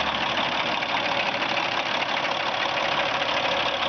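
A steady, dense truck engine idle heard up close with the hood open, an even mechanical churn with constant loudness and no voices.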